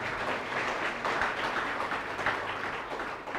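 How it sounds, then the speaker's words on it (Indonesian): An audience at a motivational talk breaks into applause, a dense burst of many hands clapping together, fairly close and steady for a few seconds with no voices over it. "Tepuk tangan dong."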